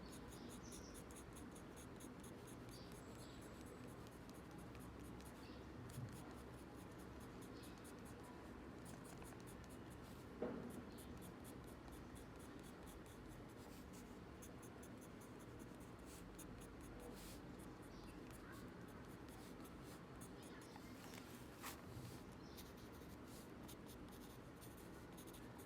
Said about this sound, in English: I'll take my pencil and just outline